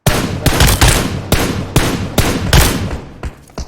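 Rapid bursts of automatic gunfire in a PUBG Mobile match, several loud close volleys separated by short gaps, with the shooting tapering off near the end.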